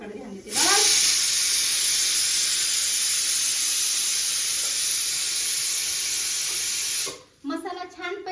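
A pressure cooker lets off a loud, steady hiss of steam that runs unbroken for about six seconds, then cuts off abruptly with kitchen noise after it.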